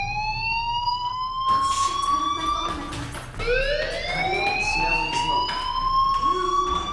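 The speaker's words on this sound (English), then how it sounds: "Hey, do you hear that fire alarm? That means you should be outside." A school fire alarm in the Life Is Strange video game wails with rising electronic siren sweeps, one tone climbing steadily, restarting partway through, then climbing again, loud and continuous under faint background sounds.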